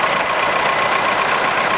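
An Allis Chalmers B tractor fitted with a Perkins engine runs steadily at a steam rally, a continuous close mechanical drone with no breaks and no talk.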